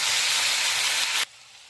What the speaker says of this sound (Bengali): আলু, ছোট্ট একটা আলু আর 8খানা বেগুন কেটে নিয়েছিলাম দিয়ে দিলাম। নেড়ে চেড়ে ভালো করে ভেজে নেব।